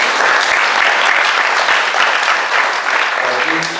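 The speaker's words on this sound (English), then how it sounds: "let's just say a round warm of thank you and applause for our panelists" An audience at a health programs and universal health care panel applauds the panelists, with steady, dense clapping that is loud and sustained throughout and holds an even level from start to finish.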